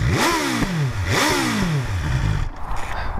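A 2023 BMW S1000XR TE inline-four motorcycle engine revs hard twice, each blip climbing sharply and falling back, then settles to a rough idle, close and loud.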